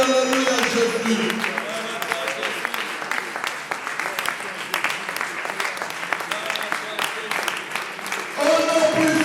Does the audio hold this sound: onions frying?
no